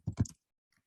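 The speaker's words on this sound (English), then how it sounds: "it's hard to type and talk at the same time" A brief burst of a few quick keystrokes on a computer keyboard, close and fairly crisp, ending in silence with a faint click or two afterward.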